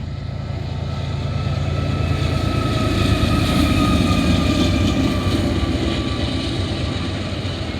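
An eastbound Norfolk Southern intermodal freight train led by a Lehigh Valley heritage unit with a black GE locomotive rolls past, a loud, continuous low rumble of engines and wheels that swells and holds steady throughout.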